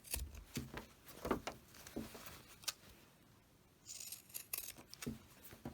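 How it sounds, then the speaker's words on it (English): Pinking shears snip a fabric edge for a small drawstring bag, trimming about a quarter inch, in a series of quiet, irregular close-up cuts with short pauses between them. "This is where the pinking shears is going to come in handy."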